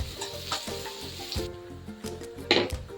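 Onions fry in a pan with a steady close sizzle and some stirring scrapes, ahead of ginger paste for a chicken liver fry.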